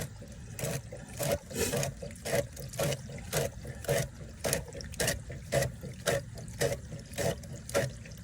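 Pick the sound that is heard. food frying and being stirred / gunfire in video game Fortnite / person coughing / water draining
water draining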